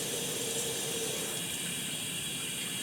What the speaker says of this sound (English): when we turn the control to 9 o'clock, the hand shower will run by itself